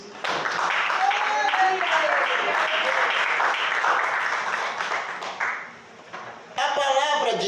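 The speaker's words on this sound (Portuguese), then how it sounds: "A igreja pode sentar e bater as palmas para Jesus." A church congregation claps for Jesus in a Portuguese-language evangelical service, broad sustained clapping that dips briefly near the end and then swells again, with voices faintly mixed in.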